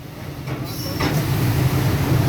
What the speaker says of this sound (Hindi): और इस ब्रिज के ऊपर से पाकिस्तान रेलवेज़ की ट्रेन जा रही है।